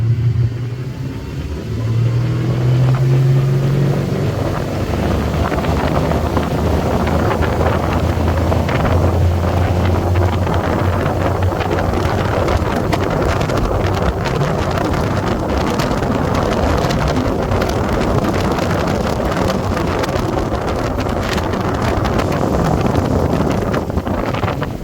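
Motorboat engine accelerating at speed on open water, a continuous loud engine roar mixed with rushing water and heavy wind buffeting the microphone for the whole stretch, no speech.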